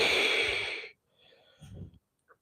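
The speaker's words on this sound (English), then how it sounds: "Sorry for breathing into the mic." Heavy breathing straight into a close microphone during an at-home leg workout between squat sets: one loud, rough exhale or snort lasting about a second, then a quieter rustle and a short second puff.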